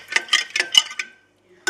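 A spoon stirs homemade lemonade with sugar, making about six quick rhythmic clinks and scrapes in a row, then a short pause and one more clink.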